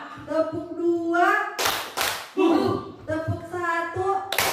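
Rhythmic group hand claps arrive as two or three short bursts between stretches of an adult voice speaking, with one more clap at the very end, close and clear.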